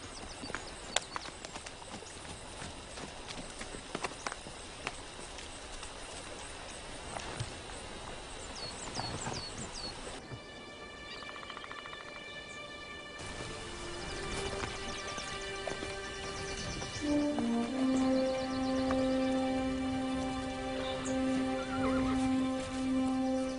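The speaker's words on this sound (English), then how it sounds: "I'll be back with the horse before breakfast." A horse's hooves clip-clop steadily, then a horse neighs, all under a continuous musical score that swells toward the end.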